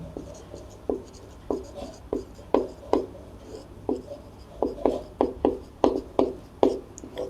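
Pen or chalk writing out a Class 10 maths answer, a steady series of short scratchy strokes at an even pace, close and clear with no talk.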